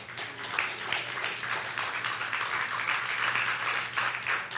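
A church congregation at a Good Friday service applauds, a full, dense round of clapping from many hands that holds steady for several seconds, with a low hum and faint voices underneath.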